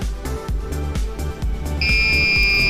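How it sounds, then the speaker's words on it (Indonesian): Buzzer of a gas-sensor fire detection system with an LCD and RGB light, beginning as a steady two-tone electronic whine partway through over a rhythmic thumping background. "Lalu untuk buzzer dan lampu RGB-nya juga berganti warna dan buzzernya juga berbunyi"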